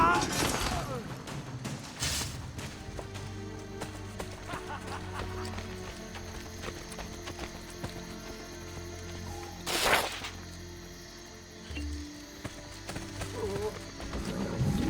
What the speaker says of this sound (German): So, mein Pferdal, wo ist mein Pferdal?